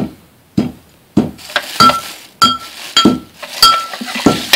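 Alum and saltpeter are ground into powder, giving a series of sharp, close clinking knocks roughly every half second, loud and hard-edged like a pestle striking a hard vessel, with no talking.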